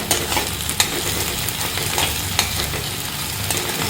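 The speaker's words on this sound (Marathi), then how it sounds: "आलं लसणाची पेस्ट चांगली परतून घ्यावी 2-3 मिनिटं, उग्रपणा जाईपर्यंत।" Ginger garlic paste sautés in a pan for pav bhaji, giving a continuous close sizzle with occasional stirring taps and scrapes, no voices.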